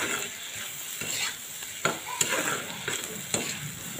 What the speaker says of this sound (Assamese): এতিয়া মই এইখিনি আৰু শুকান হোৱালৈকে ভাজিম, 2-3 মিনিটমান ভাজিব লাগিব এনেকৈ